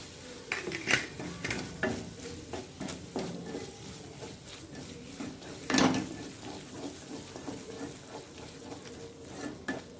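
A spoon stirs spiced mushroom thokku masala with coriander powder in a frying pan. Steady scraping and clinking sounds over a soft sizzle, with one louder knock of metal on the pan midway, close and without talk.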